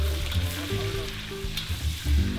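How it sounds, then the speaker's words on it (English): Pork belly stir-fries in a smoking hot wok in its own juices, a steady close sizzle and frying hiss running throughout with a low, tonal background underneath. "He heats the wok until smoking hot, then stir-fries the pork belly in its own juices."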